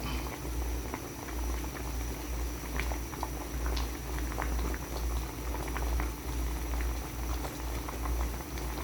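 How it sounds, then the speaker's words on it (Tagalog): Silver snapper fish adobo simmers in a pot, a steady, dense bubbling and popping with soft liquid patter, moderately close and continuous with no voices. "pakulo-kulo na lang"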